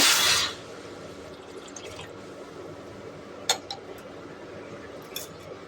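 Water goes into a hot cooking pan (kadai) while green peas are being fried, with a short, loud gushing splash at the start, then faint drips and a couple of light clinks.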